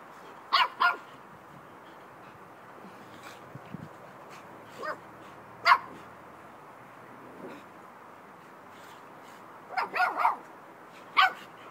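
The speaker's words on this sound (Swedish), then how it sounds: "Batman, skäller du på mamma?" A dog gives scattered sharp barks and yips, in short bursts separated by quiet pauses, fairly close by.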